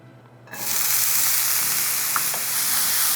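Edamame frying in a pan: a loud, even sizzle bursts in after a brief quiet start and holds steady, with a faint stirring scrape partway through.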